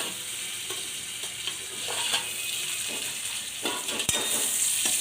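Spice paste fries in a pan for a drumstick and coconut curry, with a continuous loud sizzle and intermittent scraping strokes of a stirring spoon, with no talking.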